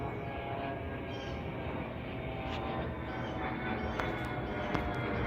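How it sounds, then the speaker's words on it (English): A private jet flying close by leaves a steady, faint roaring drone that holds evenly throughout, with no voices. "So the sound you're hearing is from that private jet or whatever that is, flying very close by."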